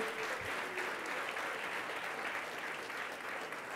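Sustained audience applause at a SOMOS Pro Puerto Rico dinner, a dense steady wash of clapping from a large crowd that holds evenly throughout without pause.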